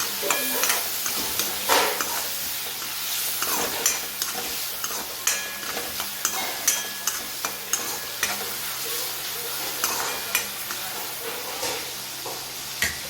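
Fried rice tossed with spicy fried rice masala in a pan, a steady close sizzle under repeated spatula scrapes and clinks against the metal, stirring in quick irregular strokes throughout.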